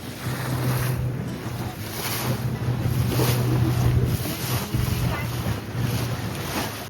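A boat rides over open ocean waves near Nivati, with a steady low engine drone beneath rushing water, splashing surf and buffeting wind noise on the microphone, loud and close throughout.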